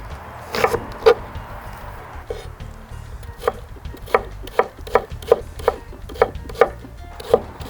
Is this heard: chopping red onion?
yes